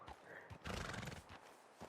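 A horse in the video game Red Dead Online gives a close whinny while its hooves clip-clop in an uneven walking rhythm, alone and fairly quiet.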